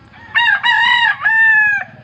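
A hybrid rooster crows loudly and close by, one full drawn-out call with a tonal rise and a long held ending, heard alone.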